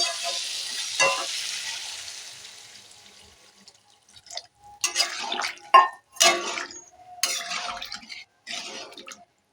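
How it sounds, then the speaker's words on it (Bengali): Water poured into a pan of frying pumpkin and okra sets off a loud hiss that fades over several seconds, followed by scattered clinks and stirring scrapes. "স্বাদ মতো নুনটা দেবো নুনটাতে একটু নাড়াচাড়া করে এবার জলটা ঢেলে দেব"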